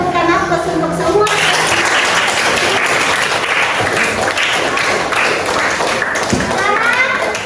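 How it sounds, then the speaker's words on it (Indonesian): A classroom of students gives sustained, dense applause that continues steadily for several seconds, close and loud, with children's voices mixed faintly into the clapping. "kita berikan aplaus untuk semua."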